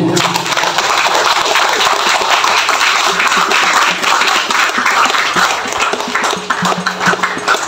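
A large audience at a surau opening ceremony in Libaran bursts into thunderous, sustained applause, dense clapping filling the whole span at steady high loudness.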